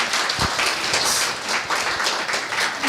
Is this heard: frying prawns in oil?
no